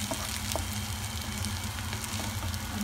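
Nasi goreng frying in a wok and being stirred, a steady dense sizzle running throughout with faint occasional scrapes of the utensil, close and continuous.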